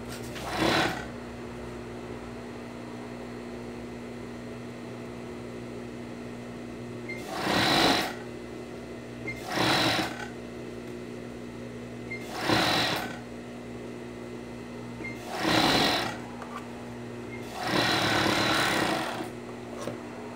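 A sewing machine stitching the cuff onto a child's dinosaur sock, short whirring bursts of stitching repeated six times with brief pauses between them over a steady low motor hum, close by and with no talk.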